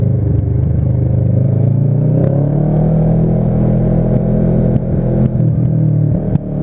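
A Kawasaki Ninja motorcycle in first gear pulls hard, its engine rumbling loud and close with a steady rising drone, a few clattering knocks near the end and no talk.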